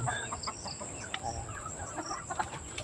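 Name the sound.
chickens clucking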